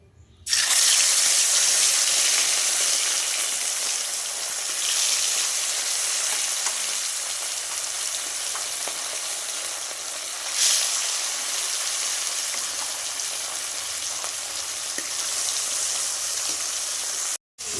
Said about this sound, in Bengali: তখন মাছগুলো ভেজে নিচ্ছি